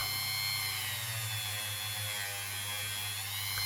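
A Dremel rotary tool grinding and polishing a coin ring made from a Finnish 10 markka coin, giving a continuous high buzzing whine with a steady motor hum, close and loud throughout.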